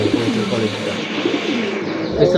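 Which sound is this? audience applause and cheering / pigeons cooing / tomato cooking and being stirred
pigeons cooing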